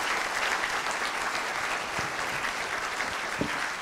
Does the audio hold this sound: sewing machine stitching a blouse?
no